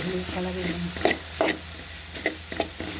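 A spoon stirs biryani masala frying in a pan for vegetable biryani, giving a steady sizzle under a few distinct scraping clinks spaced across the moment, close up with no talk.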